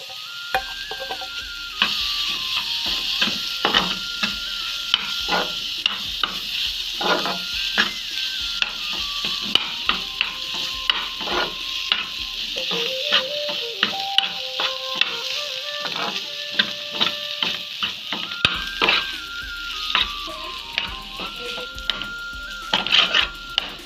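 Mashed boiled potato and vegetables for a veg cutlet frying and being stirred in a pan, with a steady sizzle under repeated scraping and clinking strokes of a spoon throughout, no talking.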